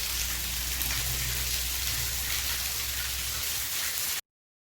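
Running water splashes steadily while utensils and containers are washed in a food processing plant handling cassava, a continuous rain-like patter heard alone at close range before cutting off abruptly.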